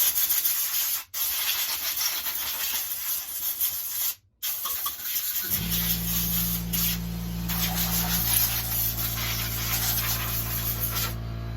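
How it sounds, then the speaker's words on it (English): Compressed air blasts debris out of a Stihl MS 441 chainsaw during maintenance: a loud, steady rushing hiss for about five seconds, then a droning motor hum with the air still blowing over it. "I'll blow it out with the air."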